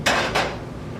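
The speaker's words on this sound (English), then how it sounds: "These spurtles are really nice for cleaning out your pan." A wooden spurtle scrapes out a pan while making pumpkin cookie frosting, giving two short scraping strokes close by, then fading into quiet kitchen room tone.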